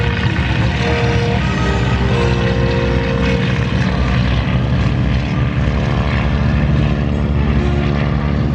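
An open-cockpit propeller biplane at an airshow runs its engine in a steady loud droning roar with a throbbing propeller beat, close by and sustained with no speech.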